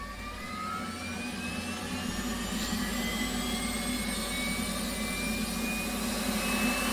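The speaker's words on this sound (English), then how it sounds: "And then we'll turn on the APU" The auxiliary power unit of an F/A-18 Hornet spools up in the DCS World flight simulator, a steady loud jet whine and roar with rising tones that builds slowly over several seconds.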